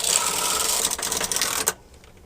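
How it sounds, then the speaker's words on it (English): A knitting machine carriage is pushed across a full bed of needles in one continuous mechanical whirring, clattering pass, close and loud, that stops abruptly near the end. "Place the carriage back into end position to knit all the needles and knit across."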